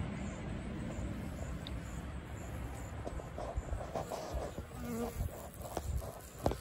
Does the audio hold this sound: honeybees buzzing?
yes